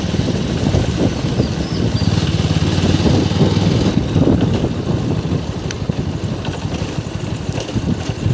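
Motorcycle with a modified exhaust riding along a road, its engine droning steadily and close, mixed with wind rush against the microphone, with no talking.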